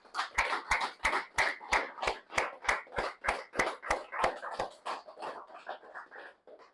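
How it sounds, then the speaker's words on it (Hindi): An audience at a talk on sales through social media claps in steady unison, sharp evenly spaced beats about three per second, loud and close for several seconds before breaking into looser scattered clapping. "जोरदार तालियां आज के स्पीकर के लिए।"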